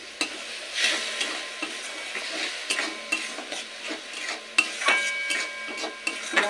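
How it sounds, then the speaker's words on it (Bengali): A spice paste for a Bengali muri ghonto is fried and stirred in a pan with a little water, giving a continuous sizzle broken by repeated close scrapes and knocks of the spatula against the pan. "সমস্ত মশলা খুব ভালো করে কষিয়ে নিতে হবে।"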